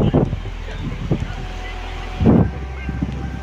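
Wind blowing with sea waves at Kanyakumari, a steady low rush with gusty mic buffeting and a louder surge of surf near the middle, while a voice talks intermittently throughout.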